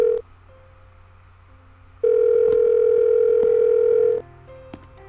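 Phone dial tone and call-connecting tones from a handset in the PSP horror game Silent Hill Shattered Memories, a steady electronic tone that cuts off, then a louder sustained tone for about two seconds, with no talk.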